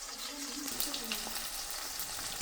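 Mixed vegetables, including beans, fry in a pan with a close, continuous crackling sizzle, while light stirring scrapes come and go over the short stretch.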